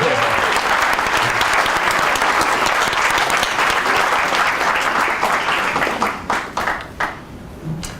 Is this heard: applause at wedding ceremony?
yes